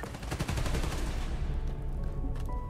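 Rapid automatic gunfire in the video game Spider-Man Miles Morales, a quick rattling volley up close that thins out into scattered shots and game ambience, with no speech.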